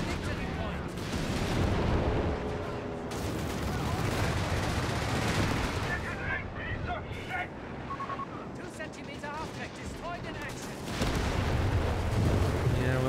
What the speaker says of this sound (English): strafing both Shermans by the look of it